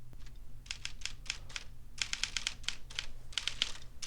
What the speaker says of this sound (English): Oh, I love the sound of typing